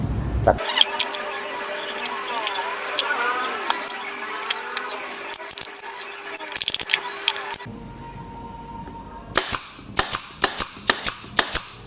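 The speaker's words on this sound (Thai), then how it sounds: "วิธียิงไม้คิ้วถ้าให้ดียิงเป็นลักษณะวนรอบนะครับ" A nail gun drives wooden trim onto a display cabinet, with sharp close pops scattered through the sequence and a quick rapid series of shots near the end, amid clattering workshop noise.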